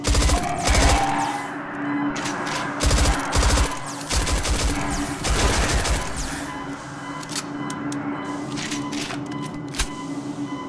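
Rapid gunfire from the Doom 2 total conversion SIREN demo cracks out in clustered bursts, loud and close at first, then thinning into scattered shots over a constant humming game background.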